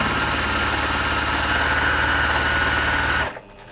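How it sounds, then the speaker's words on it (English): A sewing machine runs steadily while stitching around a textile project, a continuous close-up motor whir that holds evenly for over three seconds, then cuts off abruptly near the end. "So we are just sewing around."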